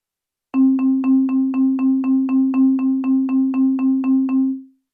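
A synthesized tone repeats one pitch in a fast, even pulse of about sixteen notes over a held drone, ending with a short fade.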